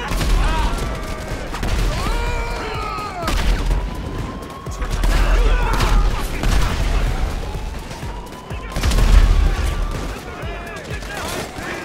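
Artillery shells exploding in GTA 5 at a military base, heavy booms and bursts of gunfire-like blasts recurring throughout, loud and dense, with a voice speaking over parts of it.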